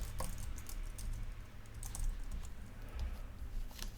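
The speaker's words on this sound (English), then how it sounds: "let's type in FBI" Quick, light keystrokes clatter on a computer keyboard in short bursts, faint and close with no talking.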